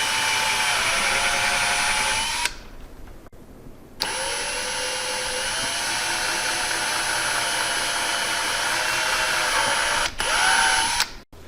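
A power drill bores into a 2021 Toyota hatchback during an OEM rear spoiler install, whining loudly and steadily in two long close bursts with a short pause between them and a brief stop near the end.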